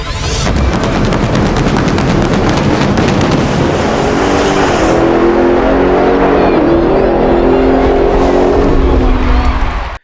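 A Dodge Demon 170 drag car makes a quarter-mile pass at a drag strip, a loud, roaring engine launch that booms, then settles into a sustained high-revving drone as the car pulls away.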